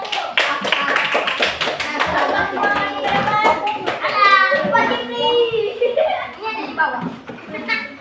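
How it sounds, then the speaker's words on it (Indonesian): A class of students claps for a group in a classroom, quick rhythmic clapping in the first few seconds giving way to lively children's chatter and voices. "Tepuk tangan untuk kelompok 1."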